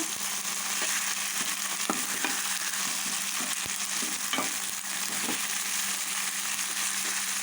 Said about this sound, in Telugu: ఇందులో మనకి ముక్కలన్నీ ఫ్రై చేసుకుందాం ఆయిల్లో ఫ్రై అయ్యాయనుకోండి ముక్కలు బాగా గట్టిగా అవుతాయి